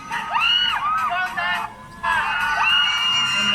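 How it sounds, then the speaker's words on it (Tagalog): A crowd at a concert screams in loud, high, sustained shrieks and whoops, with a brief dip before the screaming surges again, close and intense. "Grabe yung sigaw ng mga nasa likod."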